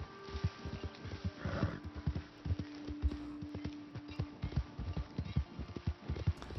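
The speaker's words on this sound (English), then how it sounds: "His horse is gone. It ran off." A horse in the Western video game Red Dead Redemption 2 gallops away, with steady clip-clop hoofbeats and a whinny, while someone talks quietly over it.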